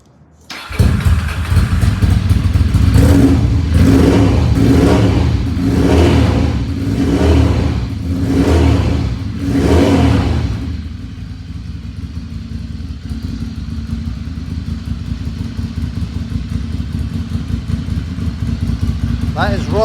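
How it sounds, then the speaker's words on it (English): Ducati Monster 696 Plus with SP Engineering end cans fires up and revs repeatedly, about six loud throaty blips in a steady rhythm, then settles into a lumpy idle close by. "That is rather a lot of noise from a little 696, but it does sound cool."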